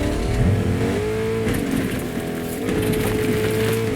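Car engine revving in the video game Fortnite, a loud continuous drone whose pitch climbs and shifts as the car accelerates, steady throughout with no talk over it.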